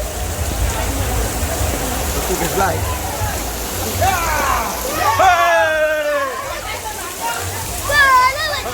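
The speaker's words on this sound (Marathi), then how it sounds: "जोरदार पाऊस आहे" Heavy rain pours down during a village Dahi Handi festival, a steady broadband hiss running throughout beneath shouting voices and festive calls that rise in the middle and again near the end.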